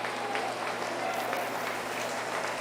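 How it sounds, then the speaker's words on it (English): Audience at a 4-H meat goat show applauding a class, a steady wash of dense clapping throughout, with a faint voice in the background. "Give them a round of applause for a nice class."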